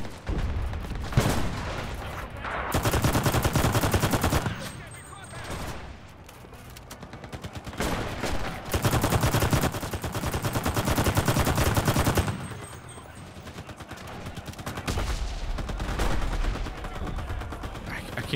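Rapid bursts of automatic gunfire from the World War II shooter game Enlisted, with shots hitting sandbags; loud, dense volleys alternate with brief lulls throughout.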